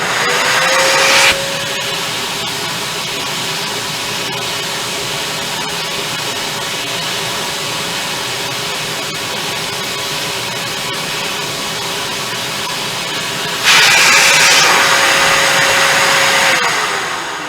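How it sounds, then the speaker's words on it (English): A loud, steady vacuum motor whine runs continuously as a vinyl record is vacuum cleaned, with a brief louder burst of suction at the start and again near the end. "Now I'm going to vacuum."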